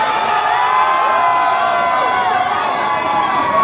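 A crowd at a restaurant grand opening in Quezon City shouts and cheers loudly, many voices whooping together in a dense, continuous roar close by.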